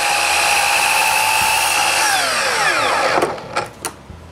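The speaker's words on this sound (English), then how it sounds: "Then I cut 4 pieces for each window opening." Power tool cutting cedar strips for window frames, a steady loud whine that runs for about three seconds, then winds down and stops, followed by a few short knocks of wood being handled.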